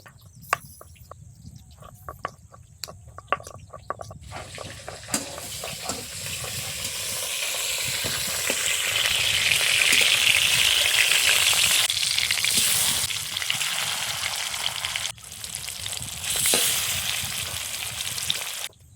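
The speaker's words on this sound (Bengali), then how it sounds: "তেল গরম হয়ে গেছে, মাছগুলো এক এক করে ভেজে নেব।" Chital fish pieces hit hot oil and fry, starting with sharp clicks and pops, then swelling into a loud sustained sizzle that eases slightly toward the end, heard close.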